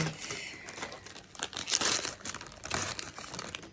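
The plastic wrapper of a pistachio cookie package crinkles and tears as it is opened, close up, in irregular bursts of crackling that swell and fade over a few seconds.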